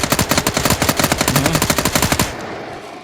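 Rapid automatic gunfire in the video game Fear the Night, a loud, close burst of about two seconds of evenly spaced shots that cuts off abruptly into a low fading tail, with no talking.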